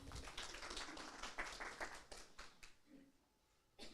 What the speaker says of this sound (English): Give them a round of applause already.